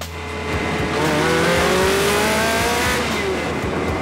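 Ferrari 360 Modena with its 3.6-litre V8 drives hard, the engine note loud and close as it revs and climbs steadily through the gears with a continuous, rising roar.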